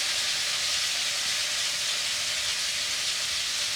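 Steaks just flipped over sizzle loudly in a hot pan, a dense, continuous hiss that holds steady and close throughout with no talking.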